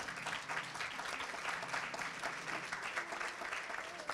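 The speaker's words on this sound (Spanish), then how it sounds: "un aplauso colectivo" Collective applause from a conference audience at a food policy congress, a dense, even clapping that holds steady for a few seconds, moderately loud and without speech.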